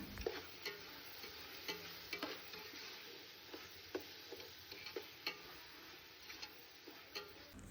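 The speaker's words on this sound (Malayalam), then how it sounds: "കട്ട് ചെയ്ത് വെച്ചിട്ടുള്ള കുറച്ച് തക്കാളി കൂടി ഇട്ട് കൊടുത്തിട്ട് ഇതെല്ലാം കൂടിയിട്ട് നന്നായിട്ടൊന്ന് വഴറ്റിയെടുക്കുകയാണ്" Onion, ginger, garlic, green chili and chopped tomato sautéing in a pan for Thalassery chicken dum biryani: a steady close sizzle with regular scraping and stirring taps, no voices.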